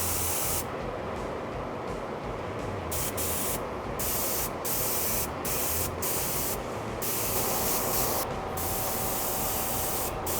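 Paint is sprayed onto a mask in a series of short and longer hissing bursts with brief pauses between them, close and fairly quiet against a steady background hiss.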